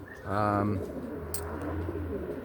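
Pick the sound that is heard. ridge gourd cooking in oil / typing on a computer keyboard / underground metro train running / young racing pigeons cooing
young racing pigeons cooing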